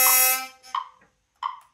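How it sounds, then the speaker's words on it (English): A loud, rasping buzz from a hurdy-gurdy played with coup strokes, first a sustained drone, then two short sharp buzzy bursts separated by silence. "that's a different type of buzz"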